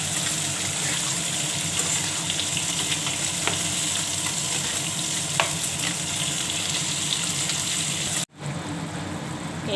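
Vegetables and potatoes fry in a pan with a steady, loud sizzle that runs almost throughout, cuts out abruptly for a moment and then resumes at a lower level.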